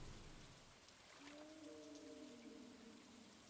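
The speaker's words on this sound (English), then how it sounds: "I just need to put on Stardew Valley rain noises." Rain in Stardew Valley patters as a soft, even hiss throughout, with a low tonal sweep gliding under it partway through.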